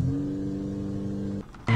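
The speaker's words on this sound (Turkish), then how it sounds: "Start dedik. Arabamızı çalıştırdık." A car engine in the Granny horror game fires up with a steady, loud droning rumble, dips briefly, then surges back louder as it revs.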